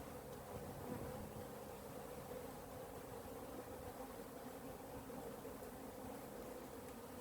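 Honey bees hum continuously at a hive that was cut out of a roof and rehoused, a dense, even drone filling the whole stretch with no voices.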